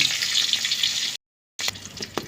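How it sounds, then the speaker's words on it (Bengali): Onions frying in oil for a fish and lentil dish, a bright steady close sizzle interrupted by a short gap of silence, then resuming with a few light clatters. "পেঁয়াজ ভাজা হচ্ছে"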